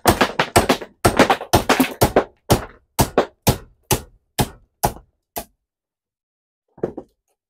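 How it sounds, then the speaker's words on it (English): Rapid, sharp metallic hammer blows strike a transformer beside its weld in a fast steady series, gradually slowing and thinning out, then a pause before one last isolated hit. "on this side of the weld, I'm just going to start hitting it with the hammer"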